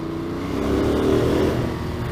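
A 2021 Ducati Monster motorcycle accelerating inside a tunnel, its engine note swelling briefly in a steady, rising drone that echoes and then eases off over about two seconds.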